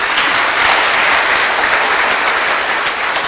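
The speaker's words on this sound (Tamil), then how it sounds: "நம்ம எல்லாரும் ஒரு தடவை ஆரவாரமா கைதட்டுவோம்" Sustained, loud audience applause fills the whole stretch at an even level, a dense crowd of hands clapping with no pauses and no voices standing out.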